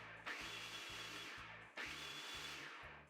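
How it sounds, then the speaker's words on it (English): A food processor pulses butter, flour and lemon for scones: two loud whirring bursts, each running over a second with a brief stop between, close and with no talk. "we are just going to pulse these ingredients together again until the mixture resembles coarse crumbs"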